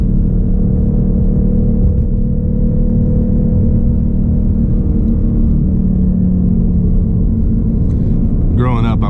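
Ford Mustang with a 10-speed transmission cruising on back roads, a steady low engine and road rumble heard from inside the car, loud and continuous, with a voice talking over it.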